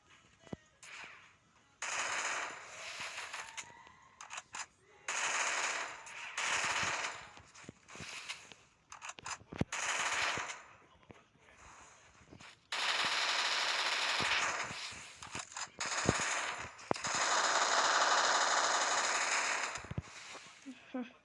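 Gunfire from a shooting video game played on a Redmi phone arrives as bursts of rapid automatic fire and single sharp shots, loud and close, broken by quieter gaps where a voice talks.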